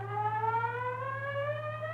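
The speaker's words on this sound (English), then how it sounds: "First gliding chords on reed box tone tool" Gliding chords from Percy Grainger's reed box tone tool, a 1951 experimental instrument on an old recording: several steady reedy tones slowly bend upward together over a constant low hum, smooth and sustained.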